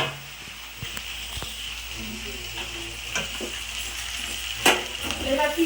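Roti cooks in a pan in a home kitchen, with a soft steady sizzle and occasional scraping and clinks of utensils, plus scattered voices in the background.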